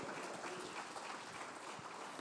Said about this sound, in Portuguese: as palmas para o Senhor nesta noite